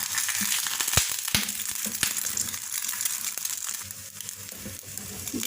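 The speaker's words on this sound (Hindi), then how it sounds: "तेल थोड़ा सा गर्म हो जाए तो सबसे पहले एक अंडा है जिसको फ्राई कर लेना है।" An egg frying in hot oil in a pan: a steady crackling sizzle throughout, punctuated by a few sharp pops and spits, close and fairly quiet with no talking.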